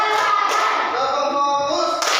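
A classroom of students claps along in a counted focus chant, short bursts of hands striking together mixed with a teacher's voice and children's voices over the clapping.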